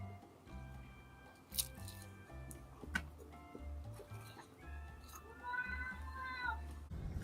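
An elderly 19-year-old cat meows in a whiny way, a few drawn-out cries standing out near the end over steady tonal background sound, with no talking.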